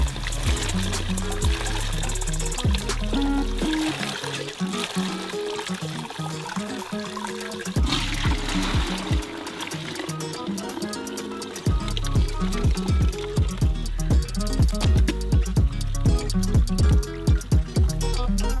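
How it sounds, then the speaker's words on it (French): Fish broth poured through a gauze-lined sieve into buckets, heard as a long continuous stream of trickling and splashing liquid with rhythmic pulses that runs throughout, loud and close. "Et on filtre le bouillon."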